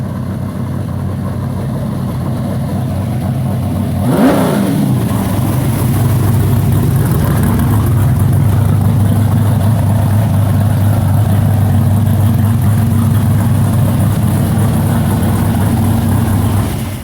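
An LT80 ATV engine runs steadily, then gives a sharp rev in high gear, a loud sustained mid-pitched drone that swells and holds close by in a shop, with no voices.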